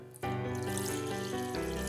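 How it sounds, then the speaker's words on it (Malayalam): Water, about half a cup, pours steadily into ground rice batter in a small bowl for soft Kerala vattayappam. A continuous close splashing stream starts after a short pause. "അരച്ച് വെച്ചത് ചെറിയ പൂണിക്ക് മാറ്റി കുറച്ച് 1/2 കപ്പോളം വെള്ളം ചേർത്ത്"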